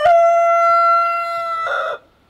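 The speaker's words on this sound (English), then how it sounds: "he's really starting to sound like a rooster" A young rooster on a free-range homestead crows once, loud and close, a single sustained cock-a-doodle-doo that rises at the end and breaks off into a short rough tail.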